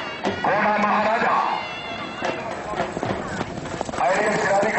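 A horse gallops at a neza bazi tent-pegging event in Mandi Bahauddin, its hoofbeats clopping under a loud announcer who talks almost without pause.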